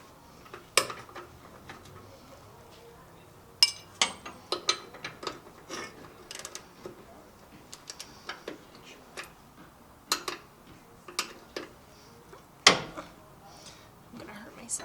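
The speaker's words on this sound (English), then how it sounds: "Loosen the nut." Metallic clicks and clanks of a wrench loosening a nut on a 1972 K10 truck, irregular ratcheting taps scattered through the clip.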